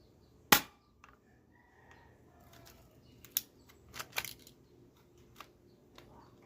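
One sharp, loud snap from an airsoft gun rings out near the start, followed by scattered quieter clicks and mechanical rattles.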